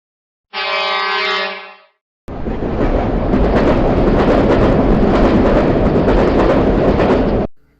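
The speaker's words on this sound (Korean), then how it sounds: "우리 열차는 잠시 후 아따맘마 니시도쿄 다나시역에 도착할 예정입니다." A horn blast sounds, then after a short pause a loud, steady rumble and rattling clatter of a train rolling along the rails toward Nishitokyo, close by.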